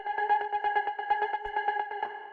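A sustained cosmic techno synth chord pulses in a quick, even rhythm, its tones shimmering and doubled by a chorus effect with a faint repeating feedback tail.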